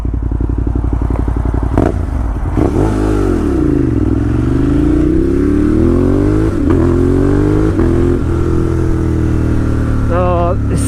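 2018 Ducati Monster 1200S motorcycle being ridden, a loud close engine note rising and falling through gear changes and revs, with wind rush throughout and a brief voice near the end.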